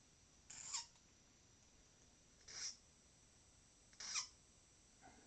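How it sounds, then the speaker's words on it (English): Three short, thin squeaks repeat about every one and a half seconds from a key blade chattering as it is filed while impressioning an old Lockwood lock, faint and close with no talk. "That squeak that you can kind of hear happening, that will occur if you don't keep your finger firmly pressed against the keyblade"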